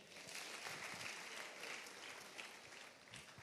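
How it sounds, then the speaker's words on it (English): An audience at a brand-building lecture gives a faint, steady round of applause, many hands clapping together at a distance in a continuous patter. "Clap for him again."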